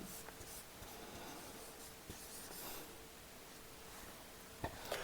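Faint, soft scratching of a pen on paper as the word "had" is written by hand, with light strokes against a steady quiet hiss.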